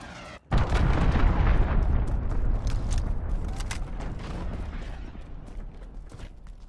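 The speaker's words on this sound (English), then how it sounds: "Allied cruise missile away." An allied cruise missile strike in Call of Duty: Modern Warfare lands as a sudden massive explosion right at the start, followed by a long rumbling roar with crackling debris that gradually fades.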